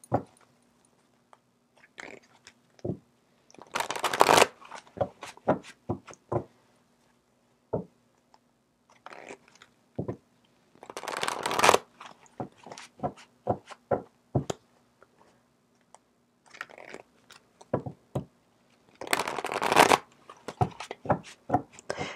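Tarot cards shuffled by hand, with bursts of riffling and soft slapping between scattered clicks and taps, close and fairly quiet, no talk heard.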